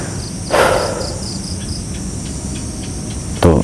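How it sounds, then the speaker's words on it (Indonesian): Crickets chirp steadily at night near a graveyard, a continuous close trill with faint rhythmic pulses, joined by a couple of brief louder rustling noises, amid geckos, lizards and frogs. "Tuh, semua suara binatang tuh keluar. Tokek, jangkrik, cicak, kodok"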